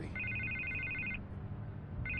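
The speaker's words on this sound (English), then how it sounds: "I can't get the phone to stop ringing." A telephone rings in the Batman Telltale series video game on PS4, a steady electronic double-tone trill that repeats in bursts, stops briefly and starts again over a low, dull background hum.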